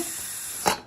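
A pressure cooker holding chicken for dum biryani lets off steam in a steady close hiss, which swells into a brief louder burst near the end before quickly fading.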